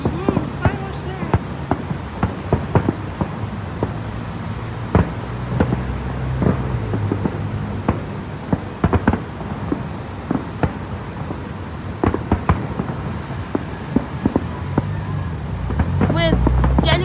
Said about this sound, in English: Fireworks right there.